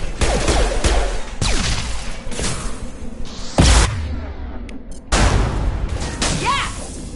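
Rapid bursts of gunfire from a Mass Effect 2 firefight, loud and close, with repeated volleys, sharp cracks and a heavy impact partway through.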